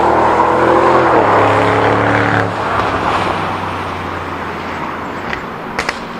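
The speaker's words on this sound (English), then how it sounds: "he wants to hear what his car sounds like from the outside" A 730 bhp Audi RS6 heard from outside as it drives past, a loud layered engine roar that rises, then drops off sharply and fades into distant rumble with a few small clicks at the end.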